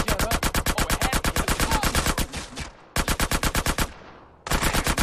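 Rapid automatic gunfire in GTA San Andreas, loud evenly spaced bursts of shots broken by brief pauses, then resuming at the same fast rhythm.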